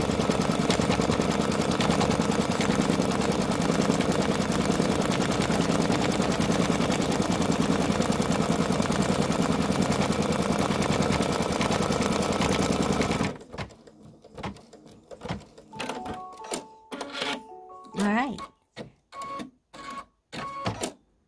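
An embroidery machine sews a tack-down stitch over mylar with a loud, rapid, even mechanical chatter. It then stops, leaving scattered clicks, thumps and brief beeps.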